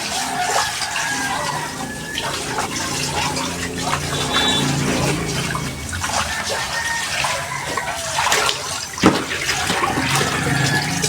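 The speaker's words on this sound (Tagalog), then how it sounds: "Mga banlawan natin." Running water rinses raw chicken pieces for tinola, heard as a continuous splashing and gushing flow from a tap, close and fairly loud with sloshing as the pieces are handled, and no voices.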